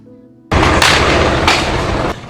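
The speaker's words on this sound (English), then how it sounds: "Shots fired" Gunfire in a San Gabriel residential neighborhood during a police standoff, captured in news footage: after a moment of near silence, loud sustained blasts and booming bursts fill the air, with heavy reverberant noise continuing through to the end.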